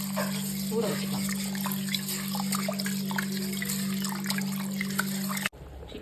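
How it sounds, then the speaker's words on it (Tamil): Biryani rice swished and rinsed by hand in water, with steady trickling and sloshing under a constant background hum, cut off abruptly near the end. "பிரியாணி அரிசியை நல்லா கழுவி ஊற வச்சுக்கலாம்."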